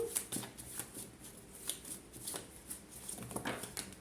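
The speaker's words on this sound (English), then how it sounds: "Let's just shuffle" Tarot cards being shuffled by hand, a faint papery riffling and soft repeated flicks of the deck in a quiet room, with no talk.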